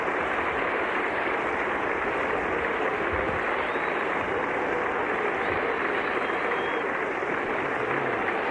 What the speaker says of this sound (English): There's the applause for a splendid innings